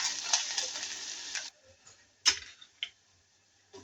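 Chopped onions hitting hot oil already seasoned with bay leaf, cinnamon, cloves, pepper and cumin for misal pav, a bright sizzle for about a second and a half, then quiet with a few scraping stirs and clicks.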